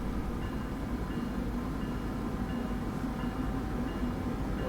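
A commuter train in Train Sim World 2's Boston Sprinter route runs at speed on the MBTA line, a steady loud rumble of wheels and engine throughout with no pauses, heard from inside the cab.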